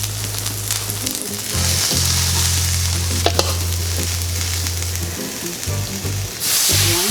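Quesatacos of birria meat and cheese frying in melted butter in a pan, a steady close sizzle with a few stirring clatters, under low humming tones that stop and start.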